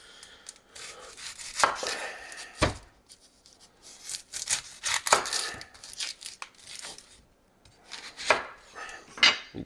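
A knife cuts a red onion on a cutting board in irregular bursts of crisp slicing and sharp taps on the board, with short pauses between strokes and no talking.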